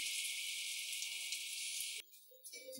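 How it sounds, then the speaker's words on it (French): Vegetable broth pours steadily over nettles in a pot, a bright, hissing liquid stream lasting about two seconds. It stops abruptly and a few faint clinks follow. "on va mouiller au bouillon de légumes"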